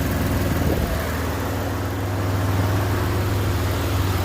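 A 2006 Pontiac Grand Prix 3.8L V6 engine idles steadily nearby, a low continuous rumble with an even hum throughout, no voices.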